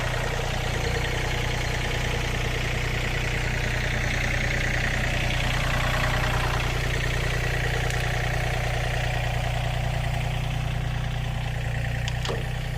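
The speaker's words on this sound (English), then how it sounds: "got to get the tractor out of the way" A tractor engine idling steadily nearby, a constant low rumble and hum with no talk over it.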